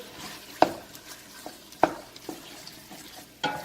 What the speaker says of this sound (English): we're going to stir with our trusty little wooden spoon